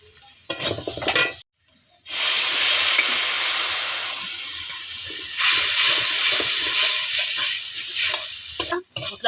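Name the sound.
spice paste frying in a pan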